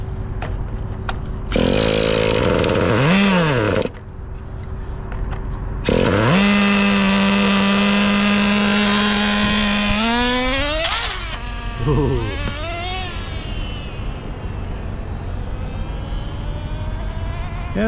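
A Traxxas Rustler 2.5 nitro RC truck engine runs during break-in, buzzing loudly and revving up and down in bursts, dropping to idle between revs and winding down near the end.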